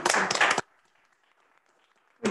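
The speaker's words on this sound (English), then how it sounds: "Give them a round of applause." Brief burst of applause from the audience at a city commission meeting in Palatka, loud and dense for about half a second, then a quiet murmur of the room before a second burst begins at the very end.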